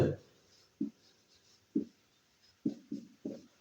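Writing a geometry proof by hand: short scratchy pen or chalk strokes come in brief bursts, about six separate marks spaced irregularly with quiet gaps between.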